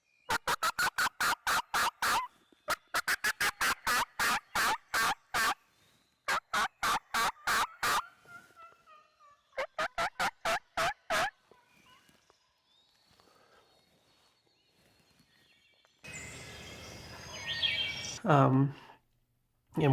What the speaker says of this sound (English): And we both were yelping, and the tom gobbled at us